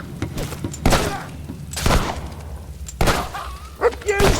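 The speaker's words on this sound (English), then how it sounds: "That shooting's gonna kill ya!" Gunfire in the video game Fable II comes as several sharp, separated bursts spaced about a second apart, mixed with other game sounds and voices.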